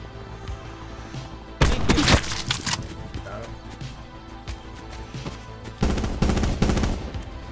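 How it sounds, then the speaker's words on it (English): Gunfire in a video game arrives in two loud, sharp bursts of rapid shots separated by quieter stretches, with a player's voice faintly underneath. "I'm getting sniped at"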